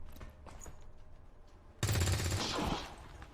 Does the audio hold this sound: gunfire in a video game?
yes